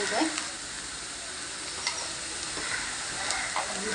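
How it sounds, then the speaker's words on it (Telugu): Onions, ginger and garlic fry in a pan for a Telugu gonguura mutton (boti) curry, giving a steady close sizzle with occasional stirring scrapes and clicks, and no talking. "ఉల్లిపాయలు బాగా వేగితే కర్రీకి బాగుంటుంది."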